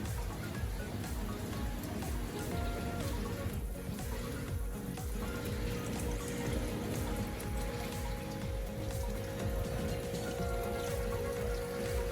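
Water pours steadily into a guppy aquarium tank during a water change, a continuous splashing and trickling flow that stays even and close throughout with no talking.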